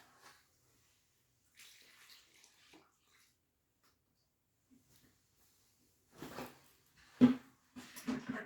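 Water is poured onto a garden bed into a small well dug in the soil, arriving as a few brief, soft splashes and gurgles separated by quiet gaps, growing louder toward the end.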